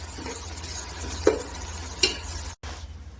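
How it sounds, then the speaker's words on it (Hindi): Onions frying in fully heated oil in a pan for chicken pulao, a steady close sizzle with a few sharp clinks from stirring. "ऑयल हमारा फुल गर्म हो चुका था। इसको हम जो है ब्राउन होने तक फ्राई करेंगे।"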